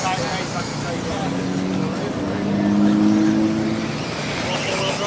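Small two-wheel-drive RC offroad buggies race in an ECRC offroad series main event, their motors whining steadily with rising and falling tones as they pass, under crowd noise and talk.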